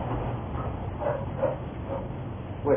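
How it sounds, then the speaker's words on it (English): A dog barks in a few muffled, spaced yips over a low background rumble, heard faintly through a narrow, dull recording. "That dog is named Mona?"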